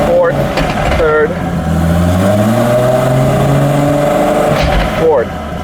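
A Nissan GT-R engine revs loudly up close, pitch climbing through gear changes with sharp shifts near the start and end, someone talking over it.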